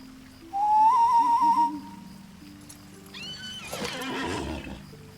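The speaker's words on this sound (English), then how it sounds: "Now that I'm here, I'll pop on my horse." A horse in the fantasy online game LOTRO gives a loud, rising whinny, followed a couple of seconds later by a second, rougher neighing burst.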